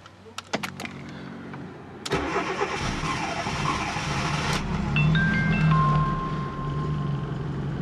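A Fiat Panda 4x4 Sisley with a bad fuel pump cold-starts: a few clicks and a brief crank, then the engine catches and runs loudly and unevenly up close, with a brief electric whine partway through.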